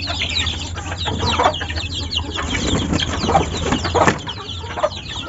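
Talisayan roosters cluck in short, repeated bursts nearby, several birds calling over a steady background of farmyard noise.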